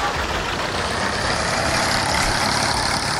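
A new tractor's engine in Farming Simulator 22 drones as a loud, steady, unbroken roar with heavy low rumble, running alone without pauses.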